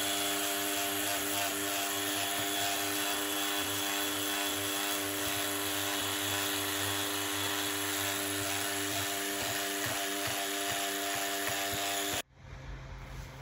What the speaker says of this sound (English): then I'm going over it with my battery sander